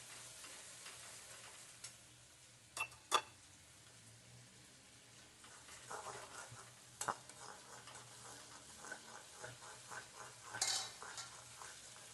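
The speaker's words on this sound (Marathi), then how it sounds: "आणि ते पण तेलामध्ये तेल सुटेपर्यंत परतून घ्यायचं तेलात." Onion and dry coconut paste frying in oil in a pan while being stirred: a soft continuous sizzle with scattered scraping clinks of a spoon against the pan, faint and close, no talking.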